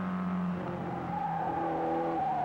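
Under 2-liter Porsche sports racing cars circle the Mosport track in 1962, an engine drone with a rising, revving tone held steady and moderately close, with no talk over it.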